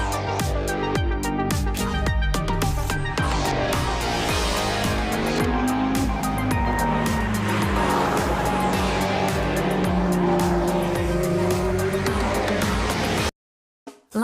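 Race cars from Project CARS 2 at the Dubai Autodrome roar continuously, engines revving and shifting with a dense whine of several cars, loud throughout before cutting to brief silence at the end.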